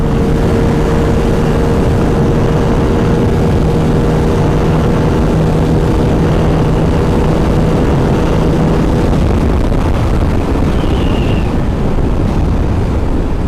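A Bajaj Pulsar RS200 motorcycle running flat out at top speed gives a loud, steady roar of rushing wind and engine drone. It holds for the whole stretch, with the engine tone dropping away slightly near the end.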